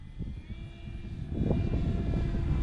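E-flite Carbon Z Cub RC airplane flying at full speed on a cloudy day, a steady electric motor and propeller whine that swells louder partway through, moderately distant, with no voices.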